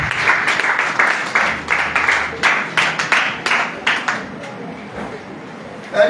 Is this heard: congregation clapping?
yes